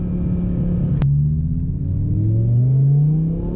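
BMW M6 V10 with manual gearbox pulls hard in second gear, its deep engine drone climbing steadily in pitch after a sharp click, loud and continuous from inside the car.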